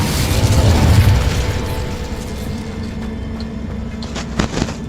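An Incendio fire spell goes off in Hogwarts Legacy as a loud, rumbling burst right at the start. It fades into a lingering low roar with a few sharper pops near the end.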